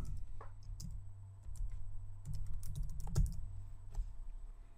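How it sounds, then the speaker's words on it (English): Someone types a chapter note on a computer keyboard, with scattered soft key clicks and a brief cluster of faster taps, close and fairly quiet over a low steady background hum. "So if I type a chapter note,"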